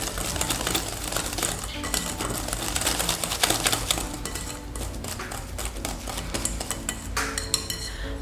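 Apple cake batter being mixed in a bowl, with a steady run of clinking, scraping utensil-against-bowl sounds that continues close and fairly loud throughout, without talk.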